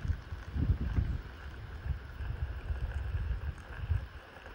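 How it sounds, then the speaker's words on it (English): Wind blowing at an outdoor overnight campsite, low rumbling gusts buffeting the microphone in uneven surges, rising and falling over a steady windy hiss. "But boy, did that wind blow. It's still blowing."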